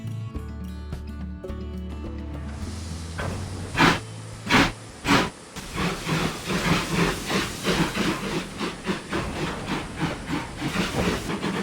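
A steam locomotive in the model railway game Trainz 22 sets off, with a sustained steam hiss and whistle followed by loud, rhythmic chuffs that quicken steadily as the engine gathers pace.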